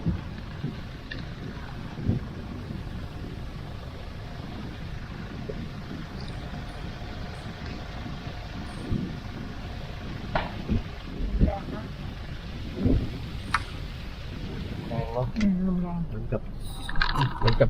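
Strong wind buffets the microphone in low rumbling gusts beside Kwan Phayao lake, with scattered knocks and a brief voice near the end.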